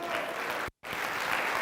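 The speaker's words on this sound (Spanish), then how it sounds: "un fuerte aplauso para todos ustedes" An audience at a motivational mindset training event gives a loud, continuous round of applause, briefly cut by a sudden moment of silence before the clapping resumes.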